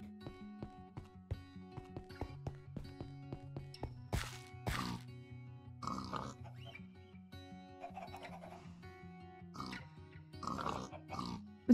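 Blocky pigs in the Minecraft SkyFactory 4 game grunt and oink repeatedly at close range, short snorting calls spread across the clip along with a few sharp knocks and thuds.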